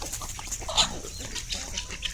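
Kadaknath chickens cluck on a chicken farm, a steady close mix of short calls with one louder squawk, heard alone without talk.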